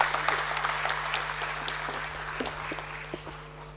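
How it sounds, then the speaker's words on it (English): An audience at a stock listing ceremony for a logistics company applauds, a steady round of clapping over a low electrical hum with a few louder claps standing out near the front. "Can we have a huge round of applause, Mr. Suresh Kumar?"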